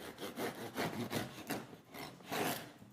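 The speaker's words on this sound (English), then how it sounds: "let's just cut this bread open" A knife sawing back and forth through crusty bread, close up, with rhythmic rasping strokes over about three seconds.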